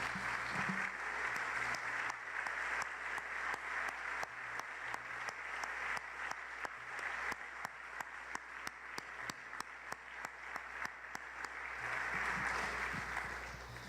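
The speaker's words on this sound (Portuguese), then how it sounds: "Quero convidar a igreja a aplaudir ao Senhor por cada mãe aqui nessa manhã" A church congregation applauds during a Mother's Day service, sustained clapping with sharp individual claps standing out, fading and swelling again toward the end.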